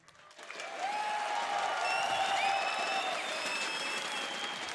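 Audience applause at an ESL One Katowice esports grand final, swelling quickly from quiet into a steady, sustained roar of clapping from a large arena crowd, with bright electronic tones sounding over it.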